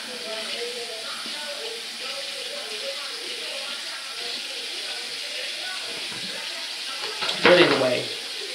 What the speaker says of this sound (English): All you gotta do basically is run some water on that thing